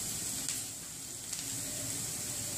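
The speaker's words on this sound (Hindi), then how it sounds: "हमारे प्याज थोड़े से भून चुके हैं, अब हम इसमें मसाले ऐड करेंगे।" Onions frying in a pan for a potato and radish sabzi, giving a continuous, even sizzle up close with a couple of faint stirring touches.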